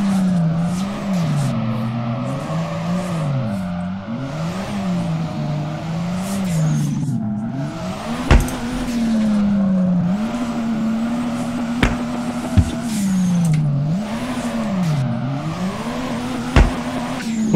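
A BMW E46 fitted with a 2JZ engine drifts in the DRIFT21 racing game, its engine droning and revving up and down in long swells with tire squeal and a few sharp knocks, loud and continuous.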